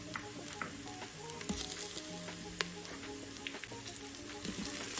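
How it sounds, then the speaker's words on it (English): Two tablespoons of unsalted butter sizzle and crackle quietly in a hot pan, a soft continuous frying hiss dotted with small pops. "Now we're adding 2 tablespoons of butter."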